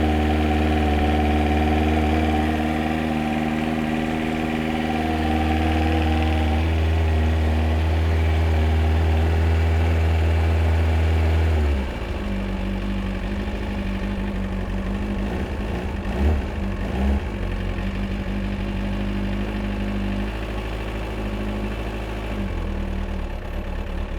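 A Kawasaki ZX-9R motorcycle engine idles steadily after a cold start with the choke on. A loud, even, close rumble settles midway into a slightly lower, rougher idle with a few small blips.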